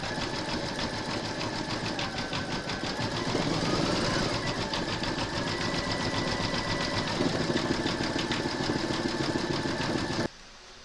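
An embroidery machine hums and chatters continuously and loudly, its needle pulsing rapidly while zigzag and satin stitching the raw edges of a haunted house applique, stopping near the end.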